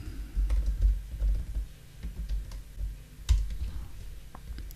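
Code is typed on a computer keyboard in quick irregular bursts of soft key clicks, close by, with brief pauses between runs.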